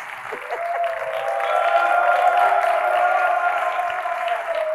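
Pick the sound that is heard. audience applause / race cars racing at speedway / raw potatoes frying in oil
audience applause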